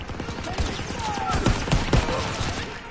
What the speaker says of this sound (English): They have basically three machine gun nests,